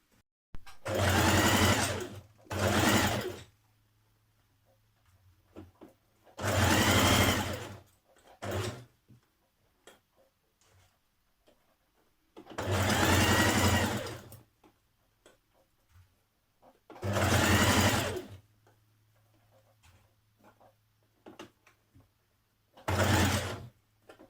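A sewing machine stitches a dress facing seam for a Simplicity 1064 tunic, running in about seven loud whirring bursts of varying length separated by quiet pauses with small clicks.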